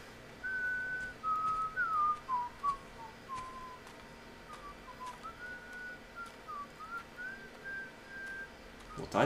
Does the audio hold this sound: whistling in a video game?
yes